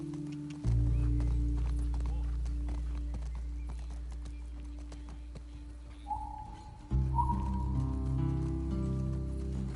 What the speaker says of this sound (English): You are riding a horse.